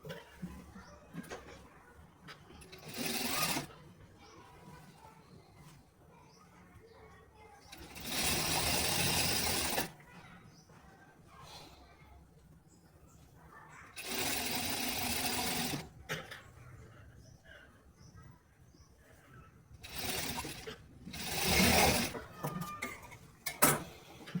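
Sewing machine stitching crepe fabric for a palazzo, running in several loud bursts of steady whirring a few seconds each, separated by quieter pauses with handling clicks and light speech.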